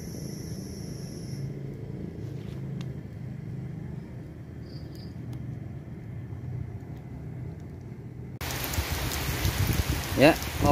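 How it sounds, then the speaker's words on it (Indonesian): Steady rain falls outdoors as a continuous soft hiss that turns noticeably louder and heavier near the end, with a low rumble underneath. "ini hujan ya"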